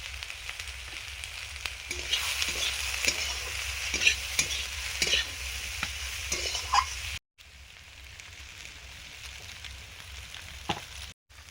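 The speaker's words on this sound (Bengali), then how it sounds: "বিনস ভাজা হয়ে গেছে" Steady sizzling of green beans frying in a pan with oil, turmeric and chilli, with regular scraping stir strokes, stopping briefly then resuming more quietly near the end.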